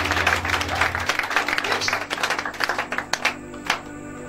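A church congregation applauding to acclaim the Lord, loud dense clapping from a crowd at first that thins into scattered individual claps and then fades out.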